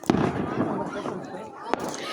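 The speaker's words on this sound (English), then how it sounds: "I love fireworks so much." Birthday fireworks bursting outdoors, a sharp bang at the start and another near the end, with crackling and people talking excitedly throughout.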